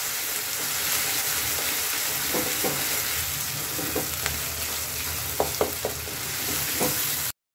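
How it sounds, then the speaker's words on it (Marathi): Ground masala paste frying in oil in a pan for a restaurant-style veg Maratha gravy: a steady, close sizzle broken by occasional soft stirring knocks, with no voices. "वाटण छान तेल सुटेपर्यंत आपल्याला भाजून घ्यायचे."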